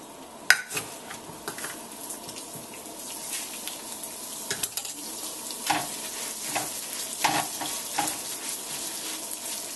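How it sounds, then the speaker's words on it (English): A cup and a half of rice browns in a hot pan with a light, crackling fry. A spoon scrapes and taps the pan at irregular moments, close by, and no one speaks. "Once that's done, we brown our rice."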